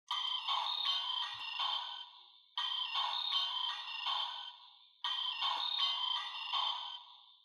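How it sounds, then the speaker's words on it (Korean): A Kamen Rider Build DX toy phone plays a bright electronic ringtone three times in identical repeating bursts with short gaps, loud and clean with no other sound. "전화 울리는 소리 같아요"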